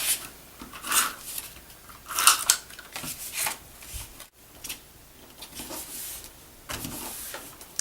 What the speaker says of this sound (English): I'll just trim down one of the sides of this card so that it lines up really nicely